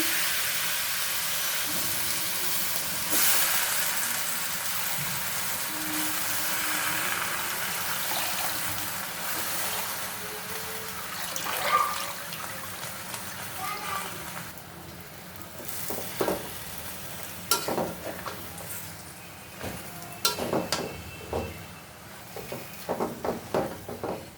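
Malabar spinach goes into a pan of fried fish masala, and a steady sizzle and hiss of frying builds, with scattered stirring scrapes and clinks growing more frequent toward the end, alone and moderately close.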